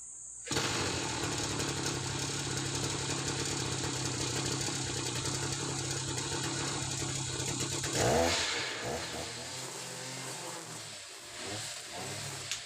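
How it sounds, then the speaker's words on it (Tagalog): A gas-powered grass cutter with nylon line runs through thick, overgrown grass, a loud buzzing two-stroke engine whine held steady, then dropping and sputtering into uneven revving bursts. "gamit yung gas cutter kasi makapal na yung damo"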